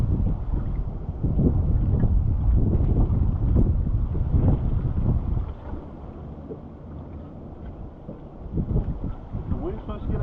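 Wind gusts buffet a small fishing boat out on open water, a steady low rush and rumble over the microphone that eases partway through and then builds again.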